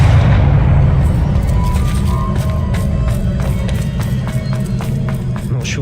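Confringo blasting spell explosions in the Hogwarts Legacy video game boom loudly and continuously through a dense, rumbling mix of combat noise, with faint tonal effects running underneath.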